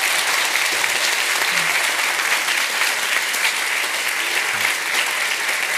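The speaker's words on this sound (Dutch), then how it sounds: "Groot applaus." A hall audience at a panel evening on prevention and the healthcare crisis bursts into sustained applause, a thick, steady clapping that holds at full strength for several seconds.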